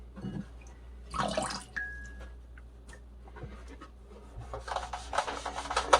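Water splashing and wet rubbing as a sponge scrubs a grimy Nintendo 64 controller, quiet close scraping and dripping in uneven bursts over a low hum, growing busier toward the end.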